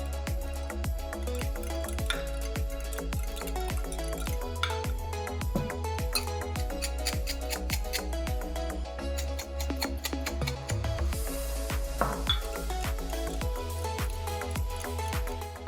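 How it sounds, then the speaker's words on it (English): A whisk beats eggs with black pepper in a bowl, a fast, steady run of rhythmic clinking taps against the bowl repeating continuously and close by, with no talk over it. "I'm going to mix this thoroughly with a whisk and add some black pepper."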